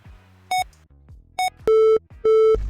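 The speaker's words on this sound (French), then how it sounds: "Laissez votre message après le bip." An answering machine gives a few short electronic beeps followed by two longer steady tones of a hang-up signal, clean and close.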